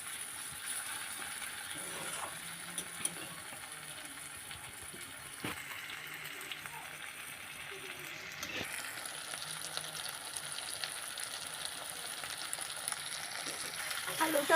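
Potatoes sautéing with spices in a pan for a Bengali river tengra fish curry, a steady soft sizzle with occasional stirring scrapes and clatters, fairly quiet and continuous, without talk.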